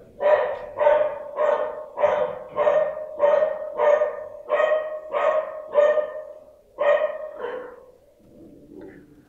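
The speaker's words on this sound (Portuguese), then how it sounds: "uma cachorrinha atrapalhou o vídeo" A small female dog barks loudly and close by, about a dozen evenly spaced sharp barks in a steady rhythm, ending with a softer whine.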